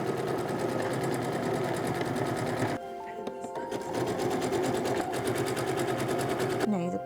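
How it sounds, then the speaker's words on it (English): A sewing machine stitches the lining of a pocket on a 1917-18 style outfit. Its steady, close mechanical chatter runs nearly throughout, with a short pause in the middle before it resumes. "And then I'm going to stitch this side too to close the bottom of the pocket"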